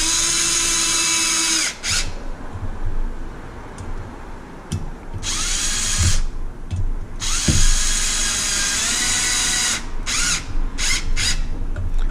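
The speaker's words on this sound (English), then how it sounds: "That's why I got this drill. This drill is on low power." A power drill set to low power whines in repeated bursts as it drives screws into a Kraton RC car chassis, each run of the motor stopping and restarting, loud and close with no talking.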